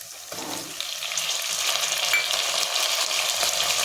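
Tomatoes fry in a pan for pumpkin sambar, a soft sizzle that swells into a dense, steady crackle and holds close and even throughout, with no voices.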